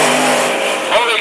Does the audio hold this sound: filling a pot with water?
no